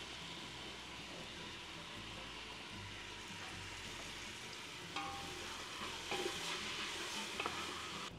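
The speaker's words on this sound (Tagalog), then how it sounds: "Igigisa ko din." Dried shiitake mushrooms, soaked and rinsed, sauté in a casserole with a soft, steady sizzle, faint and continuous, with a few light stirring clatters toward the end.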